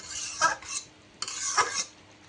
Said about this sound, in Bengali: ঢাকনাটি উঠিয়ে সুন্দরভাবে ভাজিটি নেড়ে চেড়ে নিতে হবে